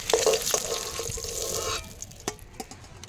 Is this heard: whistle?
no